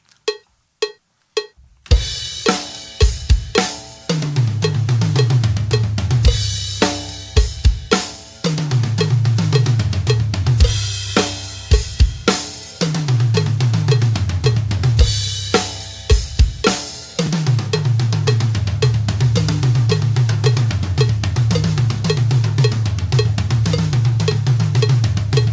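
A drummer plays a crossover pattern transposed down the toms, rolling steadily in a fast repeated cycle of resonant tom hits with cymbal accents, loud and close, after a few sparse opening strokes.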